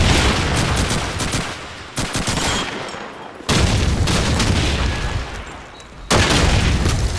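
Dense, rapid gunfire from a competitive first-person shooter video game match, with continuous rattling bursts that break off into short pauses before firing resumes loudly.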